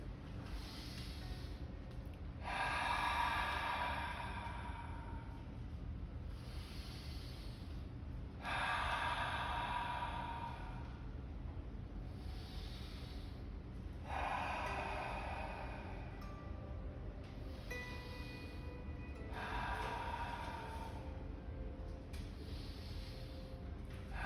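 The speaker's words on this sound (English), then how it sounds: "Let's work on some breathing right now" Slow, deep breathing during a yoga session: about four long, airy inhale-exhale cycles, each several seconds, spaced evenly and heard close and alone over quiet room tone.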